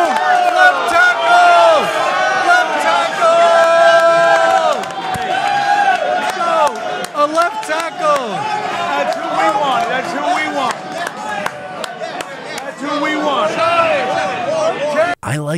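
Fans at an NFL draft event cheer and yell loudly in a dense, continuous roar, with shouts and claps mixed through and voices close by.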